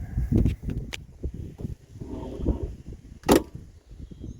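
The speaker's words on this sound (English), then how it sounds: "This door still shuts like" A 1968 Ford LTD hardtop's car door shuts with one sharp, solid slam, close by, after scattered handling and rustling noises.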